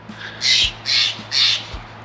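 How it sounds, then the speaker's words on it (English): Three harsh, rasping caws from a nearby crow-like bird, evenly spaced and loud against a quiet morning background at a campground near Lassen Volcanic National Park, California. "the birds are up this morning"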